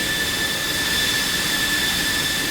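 F-16CM jet engine running in the Digital Combat Simulator flight game, a steady roaring rush with a high whine on top, loud and continuous with no voices.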